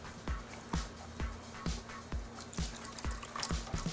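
Water poured into a pre-owned machine that has just been flushed out, landing in a series of gentle splashing pulses about every half second over a low steady hum.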